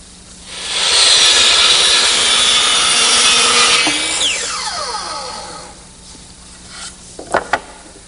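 A handsaw cuts miters through decorative-edged wooden boards for a secretary desk base, a loud steady rasp of back-and-forth strokes for several seconds that fades, followed by a few sharp knocks near the end.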